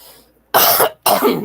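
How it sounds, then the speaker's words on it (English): Two harsh, forceful coughs close to the mic from a person with COVID-19, separated by a brief pause, each a loud broadband burst. "And I'm still coughing."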